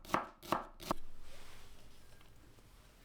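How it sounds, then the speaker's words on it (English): A kitchen knife slices shallots on a cutting board, giving three crisp, evenly spaced chops close up, followed by a faint lingering rustle. "slice 2 shallots"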